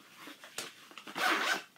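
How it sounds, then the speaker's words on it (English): A short zipper on a craft bag rasps open close by, a few quick scratchy tugs followed by one longer, louder pull. "has a zipper."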